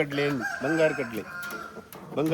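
Rooster crowing up close on a farm in Mangalore, two loud drawn-out calls with clear rising and falling harmonics, separated by a short gap, plus some faint background noise.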